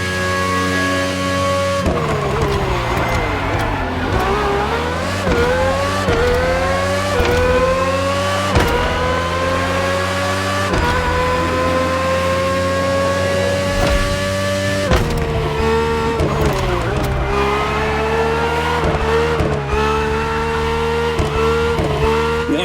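A Red Bull RB18 Formula One car with a powerful Honda engine screams through repeated upshifts in The Crew Motorfest, the loud whining note climbing steadily in pitch, dropping sharply at each gear change and climbing again.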